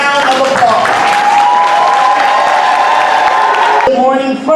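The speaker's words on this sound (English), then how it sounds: "Everybody should stand right now and give them a round of applause." Audience applause for an eighth grade graduating class at a school graduation ceremony, a dense steady wash of clapping with cheering and whoops from a large crowd, cutting off near the end.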